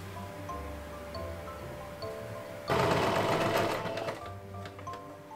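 A sewing machine stitching cosplay sleeves runs in a loud, steady burst of about a second and a half partway through, with quieter room hum before and after.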